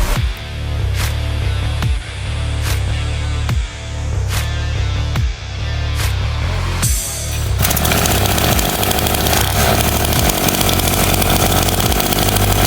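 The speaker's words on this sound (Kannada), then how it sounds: "ಈ ಬೈಕ್ನಲ್ಲಿ 50cc air cooled single cylinder 2 stroke engine ಇದೆ" A Neo 50cc air-cooled single-cylinder two-stroke kids dirt bike engine runs loud and close, first with sharp regular pops or revs about every second, then settling into a dense, buzzing roar.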